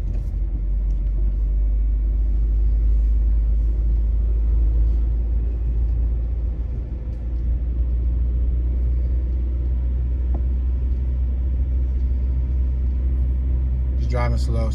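A car rolls slowly through a quiet city neighborhood street in Philadelphia's Feltonville on a sunny day, its engine a steady low rumble throughout with no strong revving.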